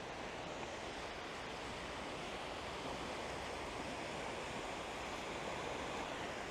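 Sea waves wash against the shore at Hastings, a constant broadband rush with wind mixed in, heard steady and moderately quiet without any voices.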